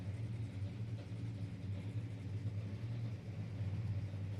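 Nitro funny car engines idle together at a Texas drag strip, a deep, steady pulsing rumble that stays fairly even in level and sounds distant and muffled, with no one talking over it.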